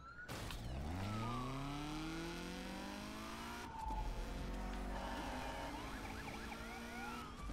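Police car sirens wail in pursuit during a Need for Speed Unbound chase, rising and falling sweeps layered over a loud, steady engine roar, with a second siren tone joining partway through; no talking.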